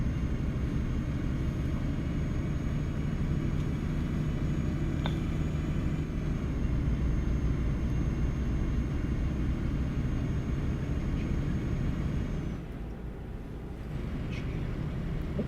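Steady low road rumble of traffic in Euro Truck Simulator 2, a continuous engine and tyre drone with a faint high whine, holding level before dipping briefly near the end.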